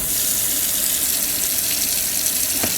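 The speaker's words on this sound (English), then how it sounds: "We're going to go ahead and turn the water on full blast here." Water gushes steadily from an RV kitchen sink faucet turned on full blast, a loud continuous rushing splash into a sink fitted with a LaSalle Bristol drain and strainer basket, heard close and alone.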